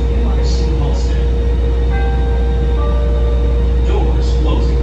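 A Chicago Blue Line subway car rolls downtown toward UIC Halsted, its steady, loud low rumble filling the cabin. Faint tonal whines and brief clanks ride on top, and an automated voice speaks over the running noise.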